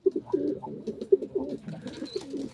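Close pigeons give a string of distinct, throaty coos in bursts, each phrase rising and falling with short gaps, fairly loud and alone.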